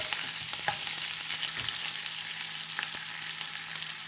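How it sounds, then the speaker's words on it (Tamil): Onions sauté in a pan for a side dish, giving a steady, close sizzling and frying hiss with occasional stirring scrapes throughout. "வெங்காயம் ரொம்ப வதக்கக்கூடாதுங்க."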